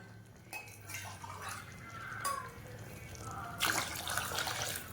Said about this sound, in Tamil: அதுக்கு ரெண்டு கிளாஸ் தண்ணி வந்து ஊற்றிக்கிறேன்